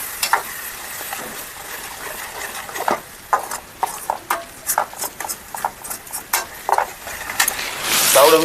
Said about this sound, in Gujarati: હવે આપણે નાખી દઈએ આ ટમેટાની ગ્રેવી. હવે કરી લઈએ આપણે મિક્સ.